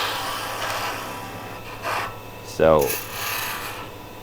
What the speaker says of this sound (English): come in here and whittle this away carefully